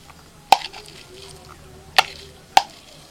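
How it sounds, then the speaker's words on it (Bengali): A knife chops onions finely on a board, three sharp, separate thwacks spaced unevenly over a few seconds, close and crisp against a quiet background. "এবার পেঁয়াজগুলোকে কুচিয়ে নেব। পেঁয়াজটা একদম এরকম ছোট ছোট করে কুচিয়ে নিতে হবে।"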